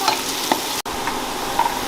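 Onions frying and being stirred in a pan for chicken biryani, a steady close sizzle with occasional stirring scrapes and one brief dropout partway through.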